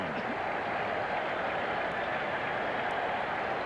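A capacity baseball crowd at a 1984 Cincinnati Reds at New York Mets game rises and cheers on a two-strike count, a steady, wide roar of applause and crowd noise filling the whole stretch.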